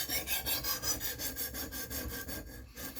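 A knife blade strokes back and forth on a whetstone in a steady rhythm of about five scrapes per second, close and fairly quiet, with no talking.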